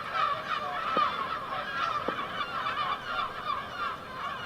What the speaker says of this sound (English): there are plenty of gulls up in the air at the moment